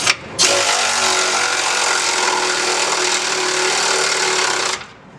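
A power tool rattles loudly and continuously for several seconds, driving track bar bolts tight on a 2018 Ford F250 with a 2.5 inch ReadyLift, then stops abruptly.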